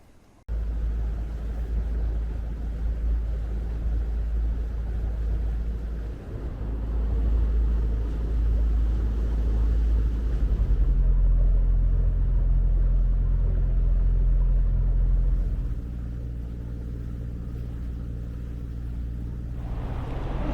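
A boat engine drones at sea off Runde in Norway, a loud steady low rumble that runs almost the whole clip, then drops to a quieter hum near the end, with no talking.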